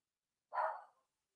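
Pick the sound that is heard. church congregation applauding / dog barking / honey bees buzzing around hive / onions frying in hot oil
dog barking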